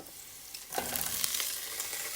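Cabbage drops into a hot pan that already holds oyster sauce. A faint background hiss swells into a louder, crackling sizzle partway through, close up and without talk.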